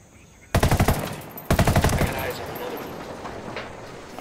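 Two rapid bursts of automatic gunfire in the Ghost Recon video game, loud and close, each a quick rattle of about six shots with an echoing tail after the second.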